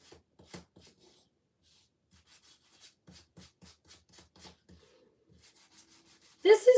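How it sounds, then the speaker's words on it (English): Painted wooden Christmas geese being sanded by hand: soft, intermittent rubbing strokes, quiet and close, with a louder scrape at the end. "So what you want to do now is sand and wax them."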